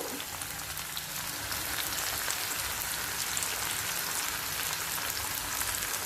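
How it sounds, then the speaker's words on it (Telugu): Onions frying in a pan for Telugu-style mint rice give off a dense, steady crackling sizzle, close and fairly loud, continuing evenly with no voices. "ఇప్పుడు ఆనియన్స్ మంచిగా ఫ్రై అవ్వాలండి"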